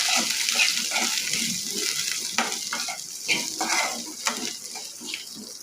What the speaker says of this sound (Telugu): బెండకాయ ముక్కలు వేసేసుకున్నాక బూందీ కూడా వేసేసుకోవాలి ఇవన్నీ మొత్తం అంతా బాగా కలుపుకోవాలి